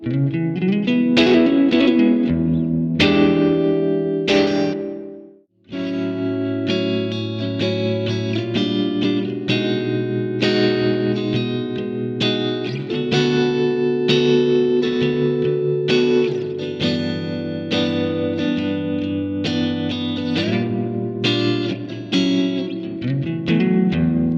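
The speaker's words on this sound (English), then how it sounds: "that is amber tremolo with all the effects" Electric guitar chords through a VOX AC30 amPlug 2 shimmering with a pulsing tremolo, trailing delay echoes and wash of reverb, loud and continuous with a brief break early on.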